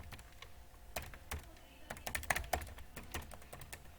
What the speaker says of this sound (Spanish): Disculpen que mi teclado está un poquito malo y escribe a veces cosas que carecen del sentido